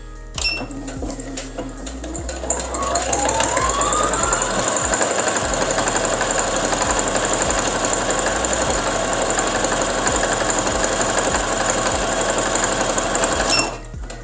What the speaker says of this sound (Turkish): Görmüş olduğunuz üzere makinayla pedalsız bir şekilde dikiş yapabildik.